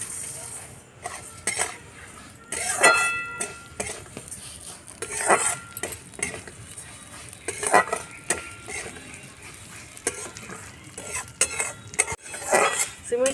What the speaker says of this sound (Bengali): আছে সিমুইগুলো দিয়ে দিচ্ছি ভাজার জন্য।